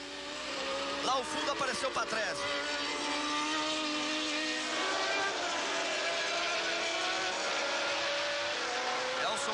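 Formula 1 race cars at the Brazilian Grand Prix accelerate in the early laps, high engine whines sweeping and overlapping loudly as they pass, under excited commentary.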